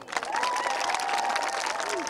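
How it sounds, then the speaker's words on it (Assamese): Audience applause and cheering from a crowd at a village talent show, a dense steady wash of clapping lasting a couple of seconds, with a faint tonal whistle-like line running through it. "ককাৰ বাবে এটা হাত চাপৰি"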